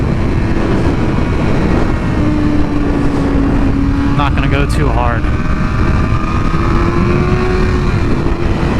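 Loud, steady engine drone of a Ninja sport motorcycle with wind rush while riding on backroads, the pitch shifting slightly as the throttle changes; someone speaks briefly over it.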